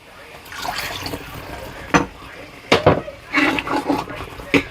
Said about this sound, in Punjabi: ਜਿਹੜਾ ਪਾਣੀ ਹੈ ਸਾਡੇ ਕੋਲ ਅਸੀਂ ਇਹ ਵੀ ਵਿੱਚ ਹੀ ਪਾ ਦਾਂਗੇ